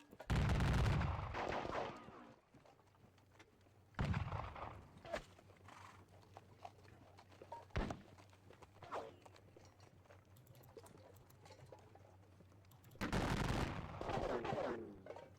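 Napoleonic wargame battle sounds from WDS Ney at the Katzbach: bursts of loud musket volleys and cannon fire with horses' hooves and whinnies, separated by quieter stretches carrying a low steady hum.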